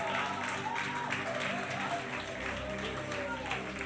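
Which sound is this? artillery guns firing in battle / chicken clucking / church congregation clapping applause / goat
church congregation clapping applause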